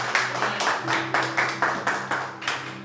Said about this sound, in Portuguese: As palmas louvam ao Senhor, e a igreja pode se sentar.